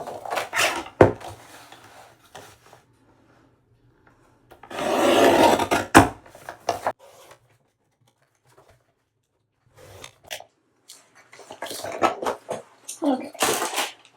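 Cardstock is trimmed with a paper trimmer for a trifold folio, giving scattered close scraping and slicing strokes, one longer rasping cut in the middle, separated by quiet pauses and small handling taps.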